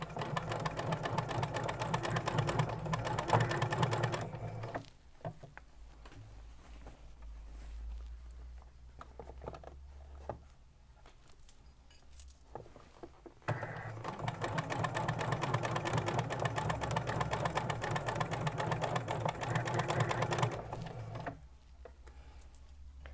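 Sewing machine stitching a sleeve cuff, running in two long steady bursts with a quiet pause between them.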